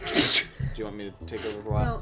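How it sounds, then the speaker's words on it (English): A single sharp sneeze bursts out from a person playing Super Paper Mario, followed immediately by another voice speaking at close range. "I'm sorry, I had to sneeze."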